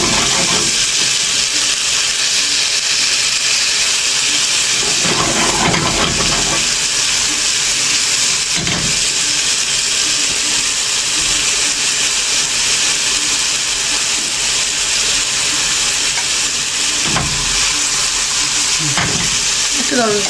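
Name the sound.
garlic frying in a pan before coriander is added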